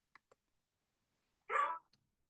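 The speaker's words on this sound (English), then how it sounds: "That is, unfortunately, my dog welcoming my husband home in the background" A pet dog barks in the background as its owner's husband comes home, one short muffled bark preceded by faint ticks, distant and quiet.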